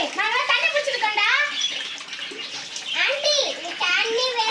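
Tap water runs continuously and splashes into a tub or basin, a steady wash of flow beneath a child's excited chatter throughout.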